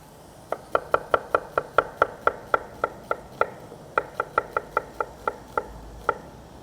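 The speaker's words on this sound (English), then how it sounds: "we can slice up our onion" A knife slices a peeled yellow onion thinly, pole to pole, on a board: about twenty crisp, evenly spaced chops in a steady rhythm with a brief pause midway, close and clear with no talk.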